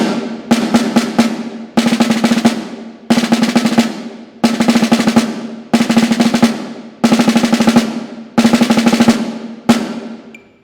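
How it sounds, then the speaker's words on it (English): A snare drum plays repeated bursts of a nine-note, triplet-within-a-triplet rhythm, about seven evenly spaced rapid groupings separated by short pauses, crisp and close. "a triplet within a triplet is simply going to be a 9-lit, or 9 notes per half note"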